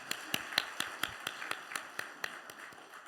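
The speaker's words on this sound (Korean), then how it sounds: "우리의 수고한 찬양대 위에 격려의 박수 한번 하도록 하겠습니다." A congregation at a Korean church's New Year Sunday service claps in encouragement for the choir. Claps land together in a steady, even rhythm of about four per second, fairly crisp and moderate in volume, gradually softening toward the end.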